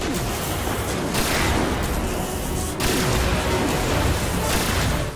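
Rapid gunfire from a weapon in the video game Destiny, a dense, continuous barrage of loud shots with a brief break midway, filling the whole stretch.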